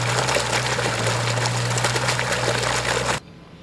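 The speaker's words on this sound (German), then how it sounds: "Nach den Arbeiten wird der See wieder befüllt." Water pouring and gushing steadily into the drained Goinger Badesee, a bathing lake near the Wilder Kaiser in Tyrol, fed by the Sinnersbach stream; a continuous loud rush with a low hum beneath, cutting off abruptly near the end.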